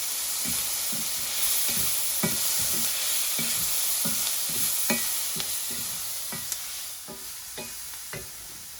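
Meat sears in a hot pan with a steady broad sizzle, punctuated by regular scraping stirs roughly every half second, close and fairly loud, with no voices.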